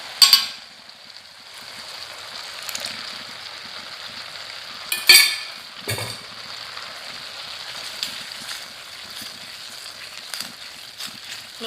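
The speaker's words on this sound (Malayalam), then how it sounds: "ഇനി കൈ വിടാതെ ഇളക്കി കൊടുക്കണേ" Beetroot halwa thickened with cornflour paste is stirred in a pan, giving a continuous soft sizzle with occasional scraping knocks of the spoon against the pan, close and moderate, with no talk.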